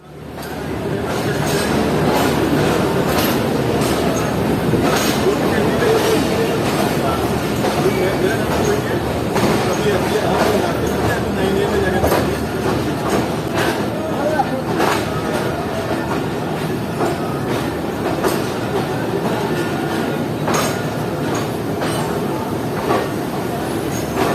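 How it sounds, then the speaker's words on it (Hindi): A train rolls into platform 4 at Rohri Junction railway station in Pakistan, its wheels clattering steadily for a long stretch with squeals and rattles under it, loud and close, with voices murmuring along the platform. "इस वक्त ट्रेन रोड़ी जंक्शन रेलवे स्टेशन के प्लेटफॉर्म नंबर 4 पर जा रही है"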